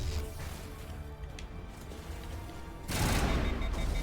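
Rocket fire and blasts from combat in the video game Mass Effect, a dense crackling barrage of gunfire-like noise that erupts into a louder, broadband explosive burst near the end, with no talk over it.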